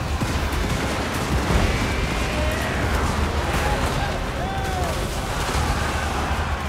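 During a Total War battle, arquebus volleys and cannon fire thud and crackle in the distance under a constant roar of combat noise, a dense, continuous wash with no single shot standing out.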